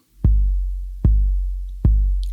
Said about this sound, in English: When they programmed it, the decay was left on pretty long